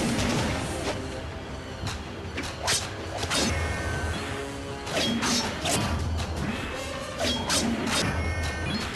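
Heavy punch impacts in the video game Bladeslinger, a series of sharp thuds and crashes spaced irregularly over busy game sound effects.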